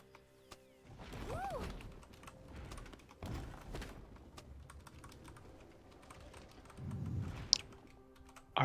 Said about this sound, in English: I'm just typing up a tweet